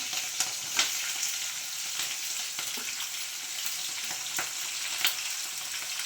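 Chopped onion, green chillies and curry leaves fry in hot oil, giving a continuous close sizzle with sharp crackles and occasional spatula scrapes, with no talking over it.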